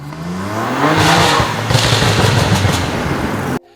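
A BMW G80 M3 Competition with an aftermarket exhaust and added power revs hard, giving a loud, raspy engine roar with rapid crackling bursts before cutting off abruptly.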